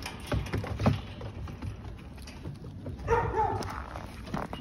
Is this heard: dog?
yes